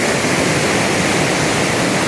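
San Telmohan Falls in Barangay Caminto, a broad steady roar of falling water, dense and even, close and loud for the whole moment with no voices.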